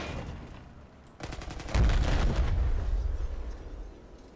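Weapon fire and explosions in Battlefield 4: a rattling burst of rapid gunfire breaks in, then a heavy blast booms and rolls on into a long, low rumble.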